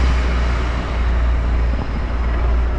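A helicopter passes overhead above a lakeside port town, heard as a steady, loud low-frequency drone with constant engine noise and no talk over it.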